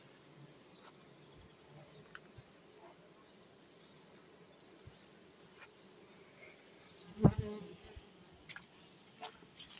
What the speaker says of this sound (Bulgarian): Пчеличките работят.